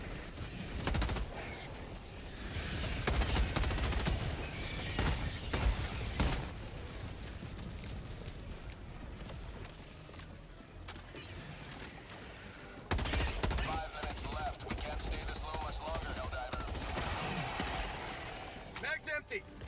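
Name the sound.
gunfire from Viper Commando weapons in video game Helldivers 2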